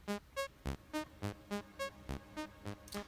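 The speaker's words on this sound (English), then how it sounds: "this is the sound of Varigate 4 Plus sequencing" A Minibrute synthesizer oscillator stepped by a Varigate 4 Plus sequencer plays about a dozen short, buzzy pitched notes in an even rhythm, each note changing pitch, heard alone at moderate volume.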